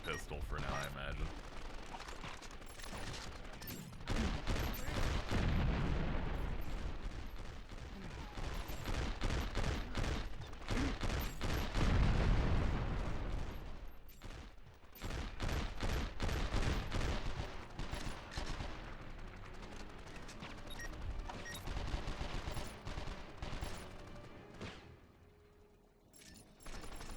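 Rapid bursts of pistol and automatic gunfire crackle through a firefight in the video game 24: The Game, dense and loud for long stretches before thinning out near the end, with voices faintly underneath.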